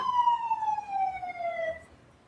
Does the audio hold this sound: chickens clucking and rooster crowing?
no